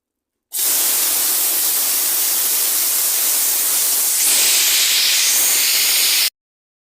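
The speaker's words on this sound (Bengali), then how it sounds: "এখন কড়াইতে তেল দিয়ে ভেজে নিচ্ছি" Brinjal slices rubbed with salt, turmeric and sugar frying in oil in a kadai make a loud, steady sizzling hiss that starts abruptly, swells slightly partway through and cuts off, with no talking.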